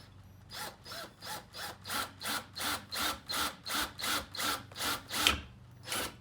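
A drill bores into wood in steady pulses, about a dozen rhythmic grinding bursts in a row, close and fairly loud with no voices.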